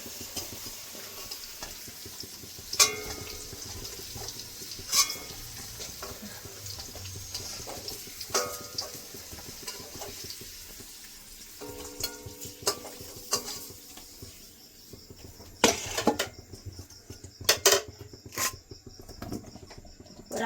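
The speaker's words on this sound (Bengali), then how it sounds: "পেঁপেগুলো ভেজে নিয়েছি, তুলে নেব।" Raw papaya pieces fry and get stirred in a pan for a chicken curry, a steady close sizzle broken by sharp scraping clinks of the spatula at irregular moments.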